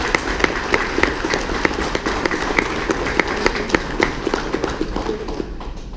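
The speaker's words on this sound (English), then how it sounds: "Please join us to welcome him with a huge round of applause." Audience applause in a lecture hall at a leadership talk series, welcoming a guest speaker to the stage: steady dense clapping lasting several seconds, fairly close, with no talk over it, thinning slightly toward the end.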